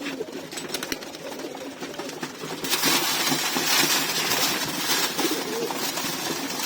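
Caged pigeons coo softly amid rustling and flapping, with a louder burst of wing and cage noise in the second half.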